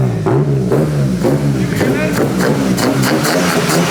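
BMW E30 with a swapped S52 engine fitted with individual throttle bodies, running in a garage with a rough, pulsing engine note and repeated rev blips, close and loud, heard under excited talking.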